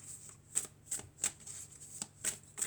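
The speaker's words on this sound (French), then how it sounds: "Alors on va mélanger." Tarot cards riffled and shuffled by hand in a quiet room, a series of crisp papery bursts roughly every half second, close and moderately soft, with no talking.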